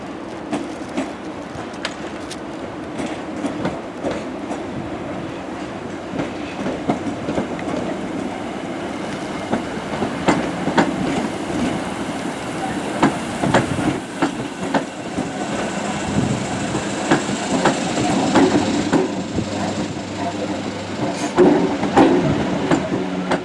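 Passenger train running on rails toward Brundall in Norfolk, a steady rumble with repeated clickety-clack wheel beats over the rail joints, close and continuous throughout, slightly louder near the end.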